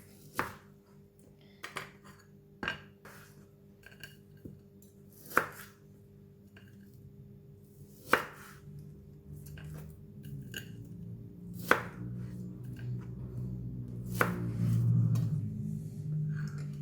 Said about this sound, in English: And for the crab balls, still frozen, you're going to cut it into half.